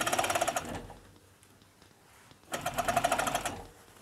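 An overlocker (serger) stitches ribbing onto a vest in two loud, steady bursts of rapid mechanical whirring, separated by a quiet pause of about two seconds.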